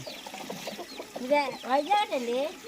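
Several close, quick clucks from chickens, rising into a few louder drawn-out calls toward the end.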